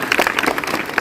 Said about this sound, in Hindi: एक बार उस लड़की के लिए ताली दी।